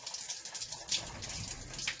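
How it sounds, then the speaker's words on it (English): Water gushes steadily from a cut household pipe, a continuous hissing, splashing flow heard fairly close and alone. "Got a lot of water coming from the rest of the house."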